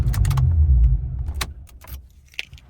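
A 1984 Pontiac 6000 STE engine rumbles low and steady, then cuts off and fades. Keys jangle close by in bright, brief bursts throughout, with a last small rattle near the end and no talk.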